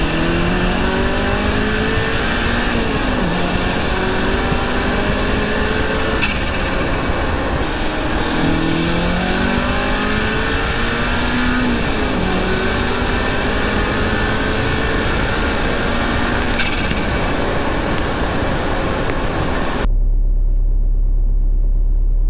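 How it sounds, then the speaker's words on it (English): Turbocharged car pulling hard under acceleration, engine note climbing through repeated gear sweeps for about twenty seconds, loud and close, with the diverter valve venting as the throttle lifts near the end before the sound cuts to near silence. "you can hear what it sounds like when the diverter valve opens when I actually lift off the throttle"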